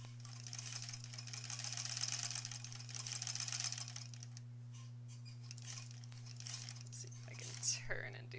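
A sewing machine runs in steady bursts while stitching a Figure 8 quilt block at home, its fast mechanical whir loudest early on, then pausing as someone talks quietly over a constant low electrical hum.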